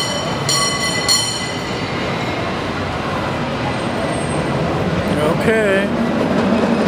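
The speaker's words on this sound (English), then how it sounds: "here comes the tram," A streetcar approaches along Powell Street in San Francisco, a loud, continuous rumble of wheels on rails with clattering and squealing, mixed with street noise and a brief spoken word nearby.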